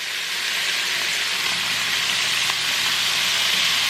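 Steak fajitas with soy sauce sizzle loudly on a hot skillet, a steady close hiss with faint crackles running through it and no talking.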